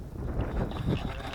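Steady wind in Switzerland buffeting the microphone, a low rumbling gust with no clear pauses, loud and close throughout.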